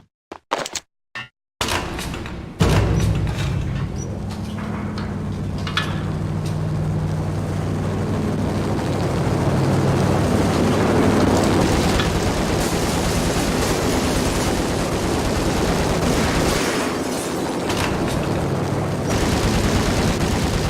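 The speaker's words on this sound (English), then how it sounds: "The unmarked chopper was Horn's pet guardian, inhuman and flawless. It was stalking me." An unmarked attack helicopter in Max Payne drones loudly and continuously, a heavy rotor rumble filling the scene after a few sharp opening bursts.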